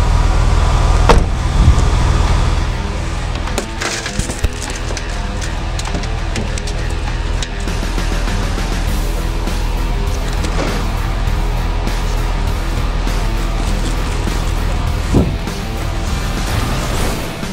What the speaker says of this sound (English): Once I gain entry, I will cut the seat belt.